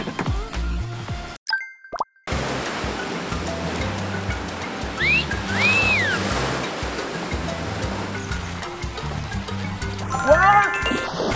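Water park wave pool churning and splashing, a steady wash of surf noise with a brief dropout near the start, and excited voices and squeals rising over the water.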